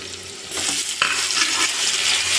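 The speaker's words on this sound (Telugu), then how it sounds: "కొంచెం కలర్ వచ్చే వరకు వేయించుకోవాలండి" Onions and tomatoes frying in a pan for an eggplant and salted fish curry, a loud continuous sizzle with stirring scrapes over it, close up and with no talking.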